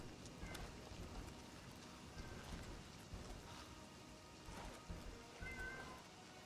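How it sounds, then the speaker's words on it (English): A house cat yowls at a door, its faint, drawn-out meows coming a few times from a distance through a soft, rain-like background hiss, with no speech over it. "I can hear my cat yelling again."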